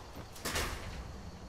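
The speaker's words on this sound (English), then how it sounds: "Close the door!" A door closes in a video game with a single soft sliding swoosh and dull thud midway. It stands alone over a low background hum.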